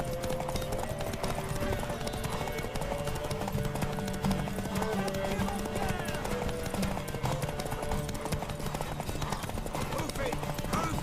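Rhythmic horse hooves clip-clopping at a quick pace in the video game The Witcher 3, steady and continuous over a dense background of game music and ambience, with voices talking over it.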